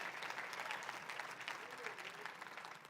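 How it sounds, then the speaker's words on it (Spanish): A church congregation claps together during a Spanish-language worship service. The applause is steady and fairly soft, with voices mingled in. "Denle un fuerte aplauso al Rey de la Gloria conmigo"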